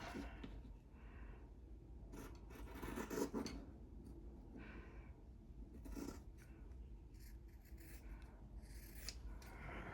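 Scissors snipping through paper at a journaling desk, a series of short crisp cuts and rustles at moderate level, alone with no talk.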